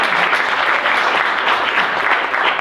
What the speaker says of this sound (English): So we can give Malvern a round of applause.